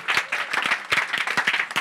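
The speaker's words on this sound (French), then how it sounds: "On va applaudir ces 4 super intervenants." An audience at a startup scale-up event applauds four speakers, with brisk, crisp clapping from a modest crowd, fairly close and lively.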